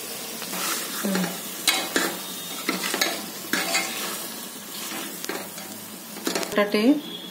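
Chopped tomato goes into a frying pan of stuffed eggplant masala, with a steady sizzle under repeated scraping and stirring of a spoon against the pan, and a voice speaking briefly near the end.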